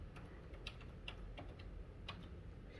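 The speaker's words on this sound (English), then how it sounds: "I'm using the regular keyboard right now" Fingers type on a regular computer keyboard, giving a quick, steady run of light clicking keystrokes that sound close and continuous for the whole stretch.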